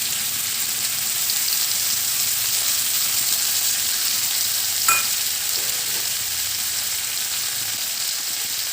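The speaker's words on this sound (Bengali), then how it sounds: "দিয়ে একটুখানি নেড়ে নেব।" Ground white mustard and poppy seed paste sizzles steadily in a hot pan, a continuous close frying hiss with one brief scrape of stirring midway and no voices.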